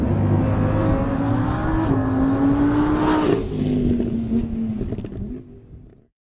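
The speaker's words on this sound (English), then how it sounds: "to fully appreciate the Lamborghini Huracan, it really should be driven, and driven hard." A Lamborghini Huracan LP 610-4 driven hard, its engine revving loudly and steadily as the pitch rises, dips and climbs again, then fading away near the end with no voices.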